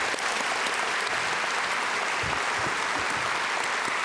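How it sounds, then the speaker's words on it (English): At a high school commencement ceremony, a crowd claps for the musical performers, a loud, continuous wash of applause from many hands that fills the space evenly for several seconds. "One more round of applause for Kyrie and Grant,"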